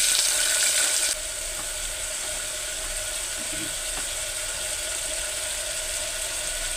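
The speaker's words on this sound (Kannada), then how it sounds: "ಸ್ವಲ್ಪ ಕರಿಬೇವು, ಈರುಳ್ಳಿ, ಶುಂಠಿ ಬೆಳ್ಳುಳ್ಳಿ ಪೇಸ್ಟ್ ಹಾಕ್ತಾ ಇದ್ದೀನಿ." Curry leaves, onion and ginger garlic paste fry in a pan, a steady close sizzle that drops slightly in loudness after the first second, with a few faint clicks and stirring sounds and no voices.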